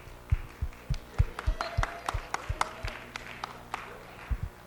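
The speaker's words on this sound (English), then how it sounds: "Oh, we should clap." Brief, sparse applause from a small crowd at a student general meeting, a few seconds of scattered claps, fairly quiet, with no talk over it.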